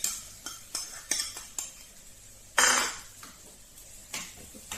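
Grated coconut stirred into frying onions in a pan for a Kerala-style crushed curry, with a string of short metal spoon scrapes and clinks against the pan and one louder scraping stir.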